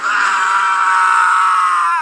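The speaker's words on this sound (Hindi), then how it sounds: "पूरे जंगल में एक दर्दनाक चीख गूंज उठी" A painful scream echoing through a forest as a horror story sound effect: a single sustained high, piercing cry lasting about two seconds, loud and alone.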